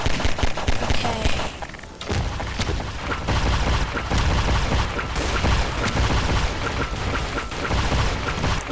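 Dense, chaotic gunfire and booming blasts from the video game Garry's Mod in a flood match run on continuously, loud and layered with heavy thuds throughout.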